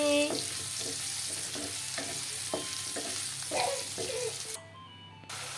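Potatoes frying in a pan, a steady sizzle broken by repeated scraping stirs of a utensil, close and continuous before briefly dropping off near the end.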